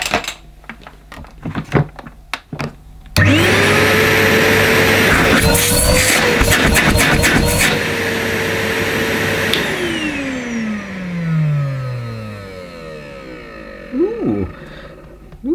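A Numatic Henry 180 Plus vacuum cleaner roars to life after a few clicks and thumps, runs loudly with a steady whine, then powers down and winds off.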